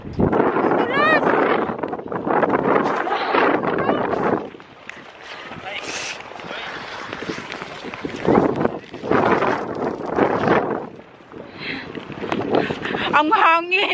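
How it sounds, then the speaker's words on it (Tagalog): Strong wind buffeting the microphone in heavy roaring gusts, with people talking and shouting over it outdoors. "Sobrang hangin. Tapos ang lamig-lamig."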